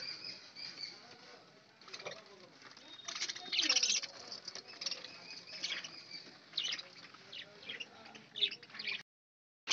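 Pet budgerigars chirp in quick, busy bursts while pecking at a plate of egg and rice on a winter morning, with soft fluttering and scratchy movement underneath and no talking.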